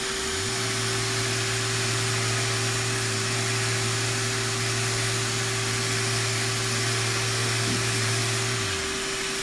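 A dust extraction vacuum runs steadily alongside a sander during surface prep, a loud continuous whine and hum that starts up, holds for about nine seconds without break, then winds down at the end.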